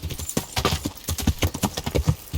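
Hooves of a galloping horse in a video game pound out a fast, steady clip-clop rhythm, close and loud, with no talking.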